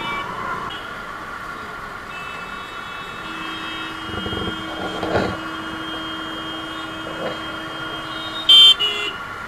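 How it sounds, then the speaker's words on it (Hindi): Dense road traffic with a steady engine rumble, a long sustained horn note through the middle and a short sharp honk near the end, no talking. "इतना तगड़ा ट्रैफिक, ऊपर से हम दोबारा ट्रैफिक जाम करेंगे"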